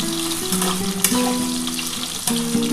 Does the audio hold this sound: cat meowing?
no